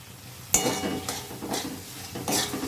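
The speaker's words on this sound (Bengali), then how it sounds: "আলুগুলো মোটামুটি সেদ্ধও হয়ে গেছে ভালো করে একটু কষিয়ে নিয়ে সামান্য একটু জল দেব" Boiled potatoes for a curry are stir-fried in a pan, heard as a low sizzle broken by three or four distinct scraping strokes of a spoon against the pan, close up.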